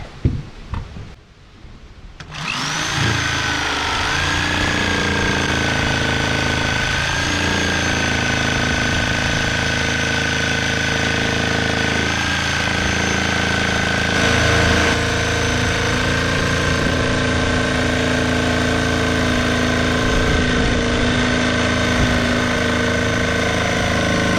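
A saw cutting ash wood for an axe handle: a loud, steady, continuous motor drone with a grinding whine that starts after a brief quiet moment and runs unbroken to the end, close up and alone.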